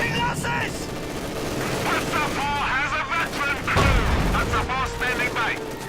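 MG42 machine gun fire and battle noise in the video game Company of Heroes 2, with dense crackling fire and explosions running beneath a steady commentator's voice.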